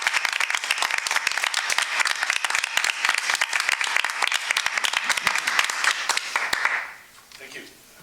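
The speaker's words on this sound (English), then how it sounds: "final round of applause" An audience gives a final round of applause at the close of an evening event, dense steady clapping nearby that fades out sharply near the end, with some talk underneath.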